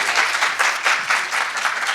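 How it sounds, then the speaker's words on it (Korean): Steady applause from an audience at a graduate school entrance ceremony, many hands clapping together in a continuous, moderately loud wash that lasts the whole two seconds with no voices over it. "네, 큰 박수 부탁드립니다."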